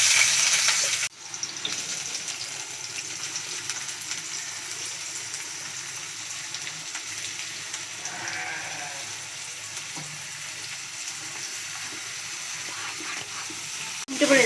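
Onions frying in oil in a pan for a spicy egg masala, a steady broadband sizzle that runs close and continuous for most of the stretch with no talk over it.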